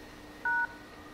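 One brief DTMF keypress tone on a phone menu, clean and distinct against a quiet hissy background.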